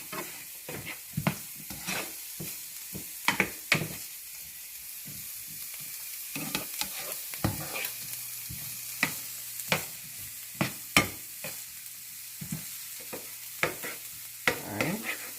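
Chopped celery fries in a pan with a soft, steady sizzle, broken by repeated sharp scrapes and taps of stirring close by.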